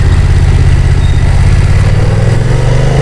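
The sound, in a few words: BMW F900XR parallel-twin motorcycle engine rumbling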